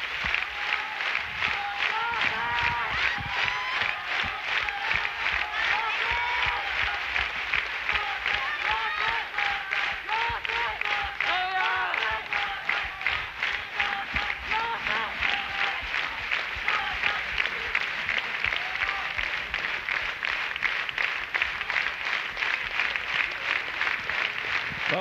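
A large audience at a Japanese folk and new-music concert in a memorial gymnasium claps along in a steady, dense rhythm, loud and continuous throughout, with music and voices mixed in.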